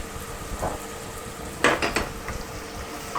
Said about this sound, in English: We just want to brown those onions a bit